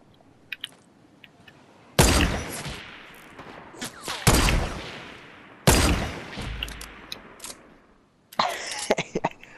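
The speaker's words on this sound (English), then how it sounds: "But you were using a hunting rifle and then you shot again" Hunting rifle fired in Fortnite: three loud, sharp shots spaced a couple of seconds apart, each with a decaying echo, followed by a burst of clattering impacts near the end.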